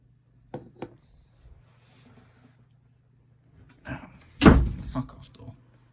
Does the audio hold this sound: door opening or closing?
yes